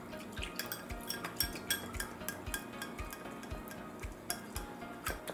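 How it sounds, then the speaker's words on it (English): A spoon stirs a sauce of sesame oil and oyster sauce in a small bowl, giving quiet, regular clinks and scrapes against the dish, close and unhurried, with no talking. "Give this a good mix."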